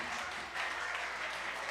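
Audience applause at a singing contest: a dense, steady patter of clapping that holds at an even level for about two seconds.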